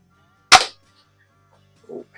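A single sharp crack from a 120-year-old Quackenbush No.5 antique spring air rifle, close and loud with a quick decay, followed by a faint soft thud about a second and a half later.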